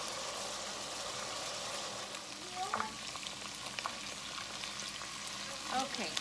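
Seasoned chicken browning in a pan, a steady close frying hiss with occasional utensil scrapes and clinks and faint voice-like murmurs in the background, no clear speech.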